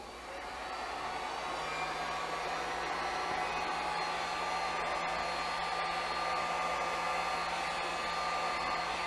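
A heat gun blowing hot air onto shrink tube, a steady close whooshing hum that starts up and runs on evenly without breaks or voices.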